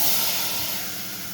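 Washed rice and cardamom pods roasting in a hot pan for poriappam give a steady, close, broadband sizzling hiss that eases off slightly toward the end, with no voices.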